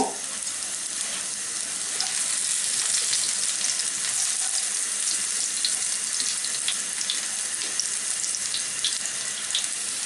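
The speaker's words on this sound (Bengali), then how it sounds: "আধা মিনিটের মতো ভাজলে রসুন কড়াইতে লাল হয়ে যাচ্ছে" Chopped garlic from four or five cloves fries with chillies in a kadai for moringa dal, giving a steady, close, hissing sizzle with faint stirring throughout.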